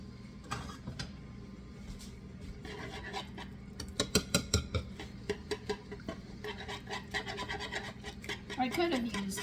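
Mashed bananas and eggs are stirred and scraped in a bowl, giving a continuous rubbing, scratching sound with a burst of quicker rhythmic strokes midway, close and fairly quiet.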